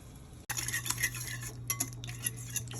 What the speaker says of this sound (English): So now I'm just mixing the ricotta cheese with the eggs and the milk and a little bit of butter in here